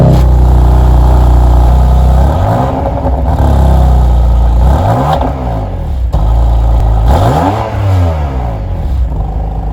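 A BMW M2 Competition engine runs loud and close, its exhaust rumbling through several rising revs that fall back between blips, steady and throaty with no talk.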